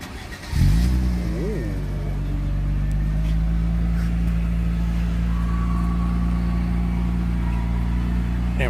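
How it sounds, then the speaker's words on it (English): A Nissan Sentra's engine cranks and catches with a sharp start, gives a quick rev, then settles into a loud, steady idle up close, with people talking in the background. "the guy said he'd start the car for us"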